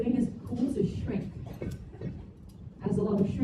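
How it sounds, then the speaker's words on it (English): Solidifying lava creaks and crackles as it cools and shrinks, a scattered clicking and ticking texture heard beneath nearby speech. "And this is what all of this noise is, this creaking, crackling sound."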